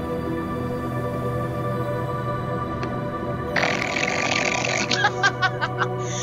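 A voice imitates a fart with a loud, buzzy, sputtering burst that starts midway and breaks into several short puffs over a low steady background hum.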